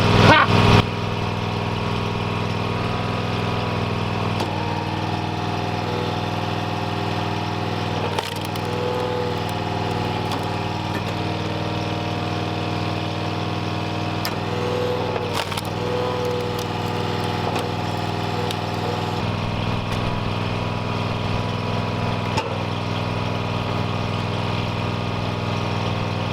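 A log splitter's engine runs at a steady idle-like drone for the whole stretch, loud and close, with occasional faint clunks from the machine.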